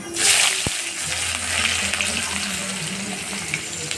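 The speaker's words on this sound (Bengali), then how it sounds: "পেঁয়াজটা দিয়ে দিয়েছি, আমি এটাকে লাল লাল ভাজি করব ভালো করে।" Onions frying in hot oil in a pan with whole garam masala, a steady close sizzle and crackle that swells after a brief clank near the start and carries on without talk.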